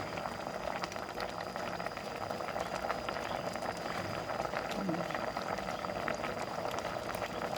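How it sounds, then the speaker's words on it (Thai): A pot of mushroom curry with pumpkin boils steadily, a constant close bubbling and simmering hiss that runs the whole time, with a voice talking over it. "นี่ค่ะพอเดือดแล้ว"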